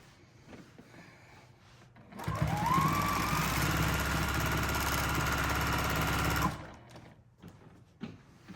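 A sewing machine runs steadily for free motion quilting, a close, fast mechanical whir lasting about four seconds before stopping, with quieter handling sounds before and after.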